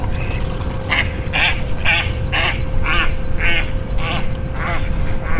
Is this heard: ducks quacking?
yes